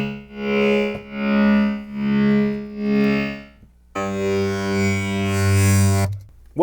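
Synthesized robotic transform effect for Transformers: Fall of Cybertron, built from reworked source material: three pulsing, distorted harmonic swells followed by a sustained, dense buzzing electronic drone, loud and alone.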